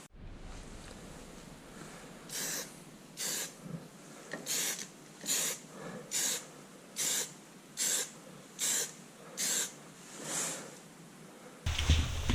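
Base coat paint is sprayed onto a 30-year-old BMW E36 car in a series of about ten short, even hissing bursts from a spray gun, separated by brief pauses, fairly close and alone.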